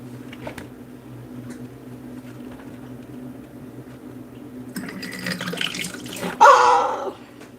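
Water is poured into a container and overflows, starting after a quiet stretch with a rising pour and ending in a louder, brief splashing rush, close and clear.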